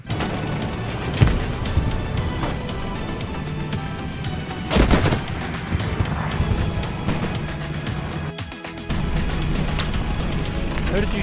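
Gunfire rattles through a shooter video game, with bursts of shots, a sharp loud blast near the middle and a constant background of combat noise, close and busy throughout.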